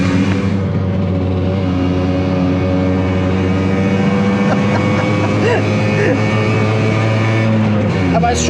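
Steady engine drone and exhaust note from a small Italian vehicle such as a Piaggio Ape three-wheeler with four-speed gearbox, a constant loud hum throughout with faint voices talking under it.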